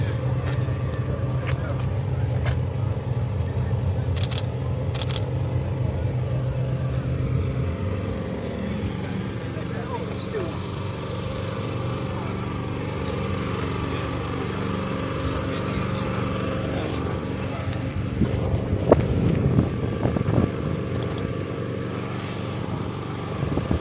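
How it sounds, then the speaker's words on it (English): A noisy car engine running close by, a steady rough rumble that holds throughout, with people talking nearby and a brief burst of louder activity near the end. "It's a lovely noisy car you've got."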